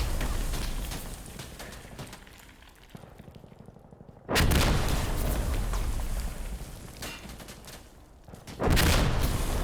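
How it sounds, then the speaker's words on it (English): Mortar strike explosions in a tactical military video game: two sudden loud broadband blasts, the second several seconds after the first, each followed by rumbling debris and decay over a background of ongoing battle noise. "Wow, what a mortar strike."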